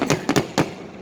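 Fireworks crackle and pop in several sharp bursts after a Kansas City Royals baseball game, four quick reports within a second with a fading rumbling tail.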